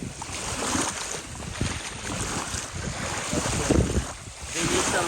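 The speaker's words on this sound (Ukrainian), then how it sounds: "Це шум прибою, хлопці." Continuous rushing surf with wind buffeting the microphone, waves washing in and out at steady loudness, close and broad.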